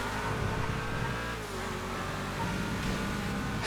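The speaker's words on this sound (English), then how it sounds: "Yeah, this car does sound meatier than it looks." Car engine revving in the video game GTA FiveM, a steady loud droning roar with shifting pitch, dipping briefly mid-clip and then climbing again, no talk.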